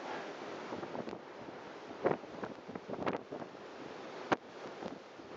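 Strong wind on an exposed Norwegian mountainside buffets the microphone in irregular gusts and thumps over a steady rushing roar, fairly quiet overall and without speech.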